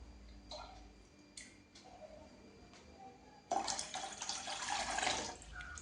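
Water poured from a kitchen tap into a pot for noodles, starting as a few soft drips and clinks before a steady, louder rushing pour sets in near the end.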